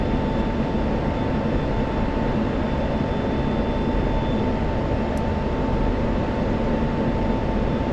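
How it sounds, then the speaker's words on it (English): An F-16 jet engine in the DCS combat flight simulator runs at full afterburner, a dense, loud, unchanging roar with a faint steady whine above it, alone without talk. "we have full afterburner here"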